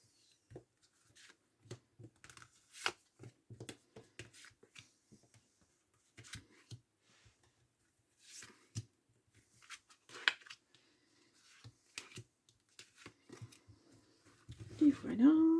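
Tarot cards are handled and laid out one by one for a nine-card spread, with soft scattered taps and card slides close up on a quiet table and a voice speaking briefly near the end.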